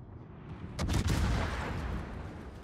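A heavy, booming naval gunshot blast in World of Warships hits about a second in, then a long rumbling roll fades out, with no voices.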